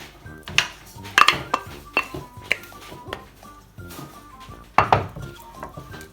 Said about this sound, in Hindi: सारे अपने चिकन को इसमें डाल देते हैं अपने पैन में।